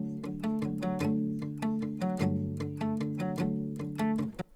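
The main guitar part of a song, a close, bright strummed figure with a steady rhythmic pulse of sharp attacks and sustained chords, playing alone.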